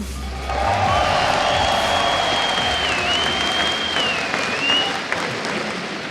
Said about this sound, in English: The crowd is absolutely amazing